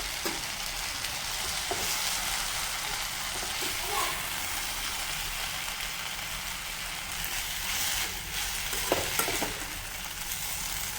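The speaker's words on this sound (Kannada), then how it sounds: "ಬೆಂಡೆಕಾಯಿ ಹಾಕ್ಕೊಂಡು ಚೆನ್ನಾಗಿ ಫ್ರೈ ಮಾಡ್ಕೊಳ್ಬೇಕು" Okra fries in a pan with a dense, steady sizzle and occasional stirring scrapes, heard up close at a fairly even level throughout.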